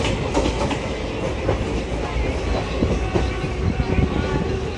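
Continuous rumble of a train rolling along the tracks near Adarsh Nagar, Delhi, with a rhythmic clickety-clack of wheels and a steady roar from inside the carriage.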